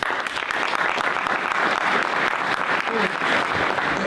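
An audience applauds steadily at an entrepreneur's event, a dense, continuous wash of clapping hands from a room full of people, sustained at an even loudness with no break.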